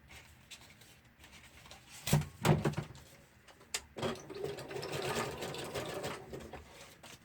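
Sewing machine stitching around the sides of a patchwork fabric journal, a steady close whirring run after a few brief mechanical clunks and thumps, with no talking.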